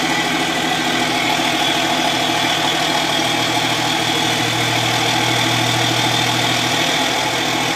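An airplane overhead makes a loud, constant engine drone with a low rumbling hum that holds level from start to finish, with no voices.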